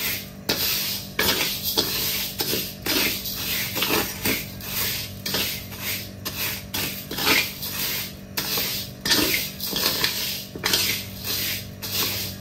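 Raw rice is dry-fried without oil in a pan while being stirred nonstop, giving a rhythmic series of scraping and rattling strokes of grains against metal, close and repeated roughly every second.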